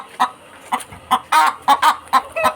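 A black Australorp hen clucks up close in a series of about ten short, evenly spaced calls, a sound hens make around egg laying, with no voices over it.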